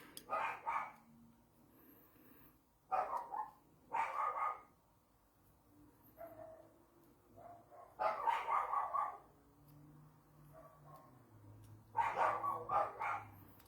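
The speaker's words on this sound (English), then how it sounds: "I really apologise for the dogs" Dogs bark outside a house at night in several separate bursts of loud, repeated barking spread across the stretch, with quieter pauses between them.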